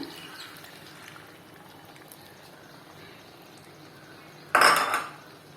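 Metal spoon scraping and clanking in a pan as water is added and tapioca halwa is stirred, a loud burst of clatter near the end after quieter background noise.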